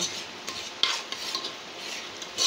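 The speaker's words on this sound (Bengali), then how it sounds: "এখন এগুলো ভালো করে কষায় নেওয়া হচ্ছে।" An onion, ginger, garlic and chili fish masala with salt and turmeric is fried and stirred in a pan for a pangas fish curry, with soft sizzling under scraping spoon strokes and a few sharp clinks, close up.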